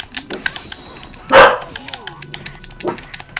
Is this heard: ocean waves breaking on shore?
no